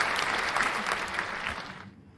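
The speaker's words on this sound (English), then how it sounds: "round of applause for Sife" Audience at an African Women in Games forum gives a short burst of clapping that fades out within about two seconds.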